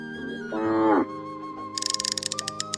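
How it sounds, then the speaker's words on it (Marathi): A Kabra Gir cow in her second lactation moos once, a loud, rising harmonic call lasting about half a second, followed by rapid clattering or rustling nearby. "आजच्या लॉटमधील 2 नंबरची गाय आहे"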